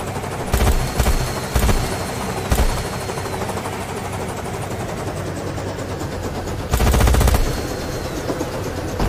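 Guns fire in the video game Carrier Command 2 in several short, loud bursts of rapid shots over a steady engine drone, with long gaps between bursts.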